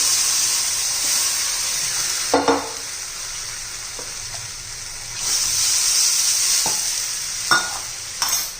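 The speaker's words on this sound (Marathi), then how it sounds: "आता आपण हे जे ज्वारीचं पीठ काढून घेतलेलं आहे ना ते घालून घेऊ" A spoon stirs sorghum flour into a sizzling pan with a steady hiss, scraping, and a few sharper clinks of utensil on metal.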